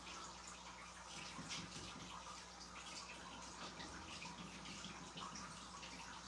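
Water runs continuously from a tap used as a fountain, a steady close splashing rush with no pauses and no talking.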